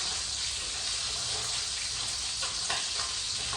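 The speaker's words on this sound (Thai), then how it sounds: "มาต้มอ่ะ" Steady broad hissing and bubbling from a pot of Thai wrapped sweets boiling, with a few faint clinks near the end.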